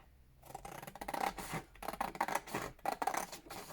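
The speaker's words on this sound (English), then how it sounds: "make sure you cut the right piece, which is the long fold" Scissors snip through a folded sheet of paper along the long fold, a series of close, crisp cutting strokes with soft rustling between them.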